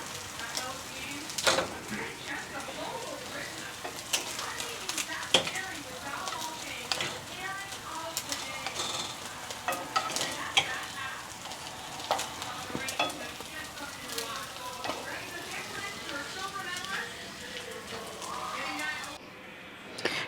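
Tikoy, a Chinese New Year rice cake, frying in a pan with a soft, continuous sizzle and occasional stirring scrapes, while someone talks over it.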